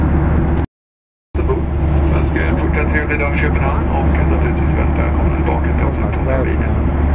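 Steady broadband drone of an airliner cabin cruising at about 10,000 meters, with a loud continuous low rumble and hiss, broken by a brief total dropout near the start; faint voices murmur underneath.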